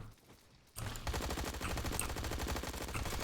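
A Tommy gun fires in Roblox Bad Business, one sustained rapid automatic burst starting after a short quiet moment and rattling loudly to the end.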